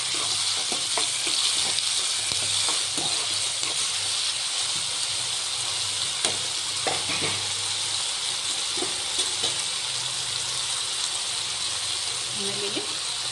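Green chillies, tomato, curry leaves and cabbage for palya sizzling steadily in a pan, a constant close hiss with occasional light stirring clicks and scrapes.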